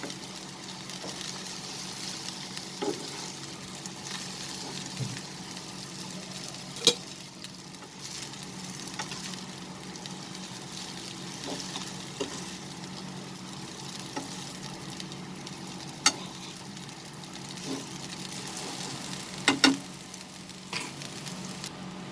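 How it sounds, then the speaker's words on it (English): Rice vermicelli noodles being stir-fried with vegetables in a pan over a low flame, a soft steady sizzle with scattered light clicks and scrapes of the spoon, fairly quiet and close with no talking. "And we'll mix it slowly with the vegetables."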